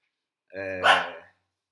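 A dog barks once close by, a single loud harmonic bark lasting under a second.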